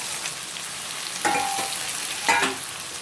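Tomatoes fry in a pan for kara kuzhambu with a steady, close hiss of sizzling oil, broken by two brief clinks of a spoon stirring against the pan.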